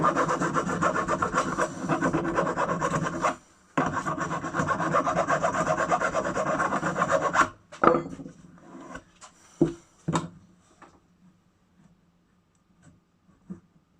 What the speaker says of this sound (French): Mais là vu que tu repars en 32, il y a juste à limer.